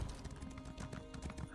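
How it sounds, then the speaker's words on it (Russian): Hooves clip-clop in a rapid galloping rhythm as a horse runs in the online fantasy role-playing game The Elder Scrolls Online, steady and close over game ambience. "Лошадь сюда быстрее!"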